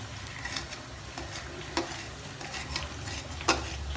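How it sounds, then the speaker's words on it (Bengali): Onions frying in a kadai while being stirred, a soft continuous sizzle with occasional sharper scrapes and clinks of the spoon, close and fairly quiet. "এই পেঁয়াজের কালারটা লাল হওয়া পর্যন্ত আপনার নাড়তে হবে"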